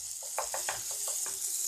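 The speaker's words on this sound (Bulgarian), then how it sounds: "Да пържим, нали, чушчиците и други работи." Peppers frying in a pan without oil, a quiet sizzle with a series of short crackling bursts as they are stirred, close up and alone.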